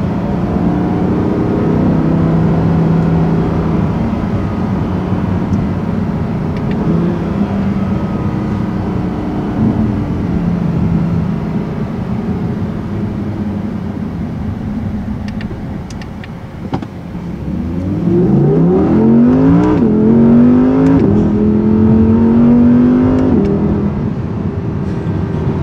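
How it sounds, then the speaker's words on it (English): A 2018 Audi R8 V10 RWS with a 532-horsepower rear-drive V10 drones steadily while driving, then climbs through loud rising revs with a clear upshift, close and without talk. "the R8 is pretty powerful at 532 horsepower, and boy does it sound good."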